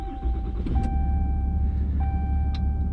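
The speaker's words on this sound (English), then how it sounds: "So let's fire it up and you'll see it barely makes a noise." A new diesel pickup truck idles very quietly after starting, with low steady engine rumble under repeated electronic warning beeps, including two long tones.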